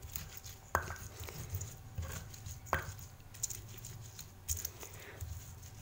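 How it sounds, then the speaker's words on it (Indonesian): Chili sambal for dendeng being ground by hand in a stone grinder, giving irregular knocks and scraping strokes with a few sharper hits, close by and moderately loud, with no talking. "Dan sekarang akan saya haluskan. Saya pakai gilingan karena kalau pakai blender nanti nggak dapat ya teksturnya"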